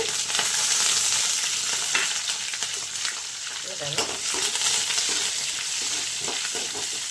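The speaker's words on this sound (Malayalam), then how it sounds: "നമ്മൾ കുഞ്ഞുള്ളി മുളകും കൂടെ ഇട്ട് കൊടുക്കുക അതിനകത്ത്" Shallots and chili frying in hot oil with curry leaves and cumin: a dense, even crackling sizzle, close and loud throughout, with occasional light stirring taps.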